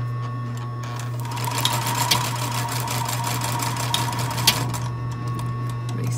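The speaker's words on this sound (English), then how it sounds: "I'm just going to do a regular stitch length back stitching at each end there." A sewing machine runs in short bursts while back stitching the shoulder seam of a small orange sweater, its rapid mechanical clatter close and steady over a constant motor hum, with a few sharp clicks.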